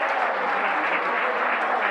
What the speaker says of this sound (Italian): Sentite gli applausi per Frau.